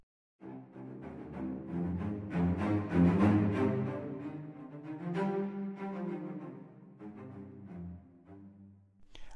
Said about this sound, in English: We've got the outriggers, which are at the same level as the tree but slightly wider.